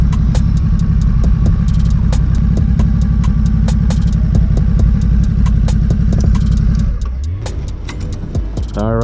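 A Ducati SuperSport motorcycle engine runs loud and close in a steady deep idle with sharp ticking pulses throughout, then the tone drops and shifts near the end as the rider moves off.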